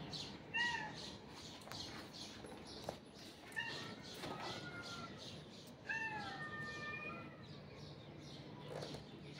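An injured cat gives several short meows and cries, some in quick pairs, at close range against a rustling, noisy background with faint voices nearby.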